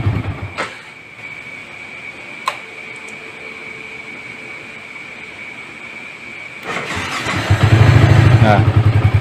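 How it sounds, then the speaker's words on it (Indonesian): Someone cranks an old Yamaha Vixion motorcycle with its electric starter after repairs. Steady background noise with a few sharp knocks gives way near the end to a louder, rough burst of cranking as the engine catches. "matikan mesinnya dan kita coba start, apakah double starternya masih kuat ngangkat."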